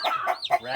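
Cornish cross meat chickens raised on pasture in a chicken tractor, a quick close burst of clucking calls, alone and brief.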